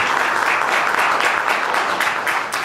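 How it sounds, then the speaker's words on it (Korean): Dense, steady audience applause at a press conference following an election victory speech, loud and continuous throughout, easing slightly at the end. "박수 한번 치시죠"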